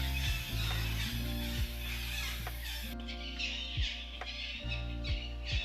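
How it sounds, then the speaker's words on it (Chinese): Birds call throughout the dim, tree-swallowed ruins of Ta Prohm temple at Angkor, Cambodia: a steady layer of chirps and squawks, with scattered soft knocks and footsteps nearby. "现在还能听到很多鸟叫声。"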